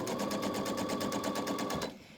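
A sewing machine runs a quick straight seam along a quilt block's edge, a fast steady rattling stitch close up that stops abruptly near the end.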